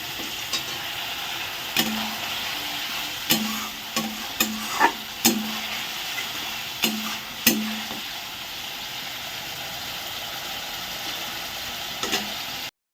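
Eggs fry in a pan for a spiced egg curry, a low steady sizzle broken by a series of sharp, irregular scraping stirs that thin out toward the end.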